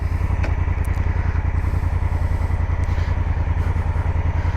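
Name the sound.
Honda Africa Twin DCT motorcycle engine running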